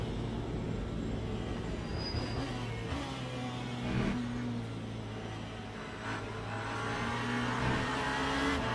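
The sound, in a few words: Cadillac race car approaching in racing video game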